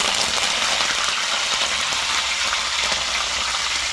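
Curry leaves hit hot oil already holding cumin and mustard seeds for a tomato rice tempering, giving a dense, continuous loud sizzle and crackle close by.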